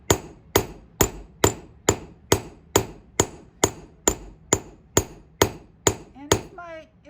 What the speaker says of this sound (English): And I'm going to hammer again.